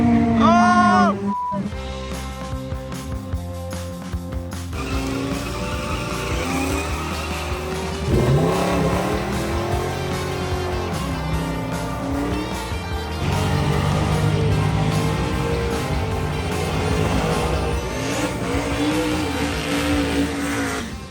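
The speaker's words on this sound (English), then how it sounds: "people are doing burnouts leaving the checkpoint" Cars leave a drag race checkpoint during Drag Week doing burnouts, with loud engine roar and long rising and falling tire squeal that go on throughout. Voices talk faintly underneath.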